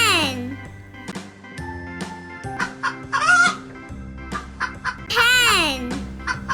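Hen clucking in short, rising and falling calls, fairly close and loud, mixed with other farmyard fowl sounds over a steady background hum.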